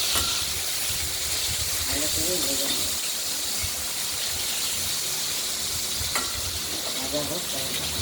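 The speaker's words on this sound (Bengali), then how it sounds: "বেগুনগুলোকে ভেজে নিচ্ছি" Brinjal (eggplant) slices fry in hot oil in a home kitchen, giving a steady, close hiss and sizzle that runs unbroken throughout, with a few faint clinks of stirring underneath.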